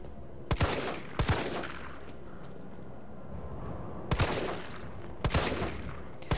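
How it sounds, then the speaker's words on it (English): Handgun shots fired in Resident Evil 3 Remake, about five sharp cracks in irregular pairs over a low ambient background, moderately loud with no talk. "Oh, why are my shots so bad?"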